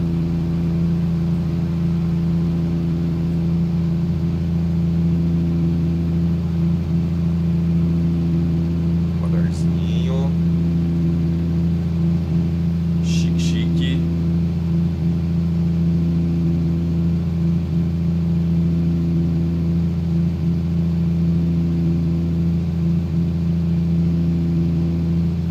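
A Mercedes-Benz 1938S truck engine in Euro Truck Simulator 2 hums at a low, steady drone while reversing very slowly, with a couple of faint clicks partway through and no audible voice.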